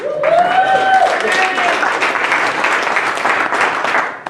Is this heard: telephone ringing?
no